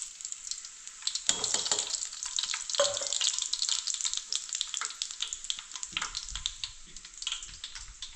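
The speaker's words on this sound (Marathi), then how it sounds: "इकडे आपण खडा मसाला जिरा मोहरी घेतले ते टाकून घेऊ" Cumin and mustard seeds with other whole spices hit hot oil about a second in, setting off a steady, crackling sizzle that keeps spitting and popping close by, with no voices.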